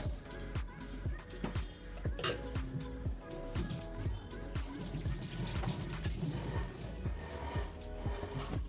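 Dishes get washed in a home kitchen sink: running tap water mixes with repeated clinks and knocks of pots and utensils, fairly soft and close, with a voice talking over parts of it.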